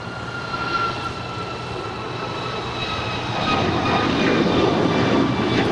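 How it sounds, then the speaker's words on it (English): United Airlines jet departing Los Angeles International for Houston, a broad jet-engine roar that holds steady and grows louder as it passes near. "This departure is United Airlines Flight 2410, departing to Houston Intercontinental."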